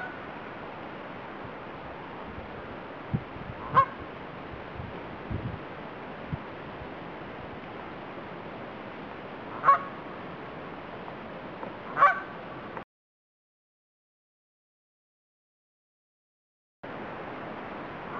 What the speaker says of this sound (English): And there's some Canadian geese there too.